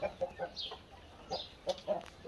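Short, scattered clucks from a few chickens, moderately close, with brief pauses between calls and no talking.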